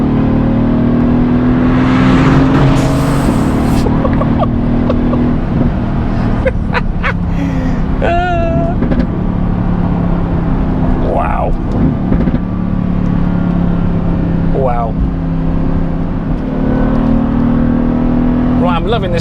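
Mercedes AMG GTS with a Black Series body kit in race mode, its engine revving hard and pulling under acceleration, a loud continuous drone with rising pitch sweeps, heard from inside while a voice exclaims briefly.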